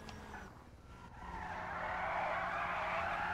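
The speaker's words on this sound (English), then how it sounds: "All I can really hear is the tires screeching" Tires screech in a long, rising squeal as a Hijak Khamelion electric sports car skids in GTA 5 Online, building from engine rumble into a loud, sustained screech.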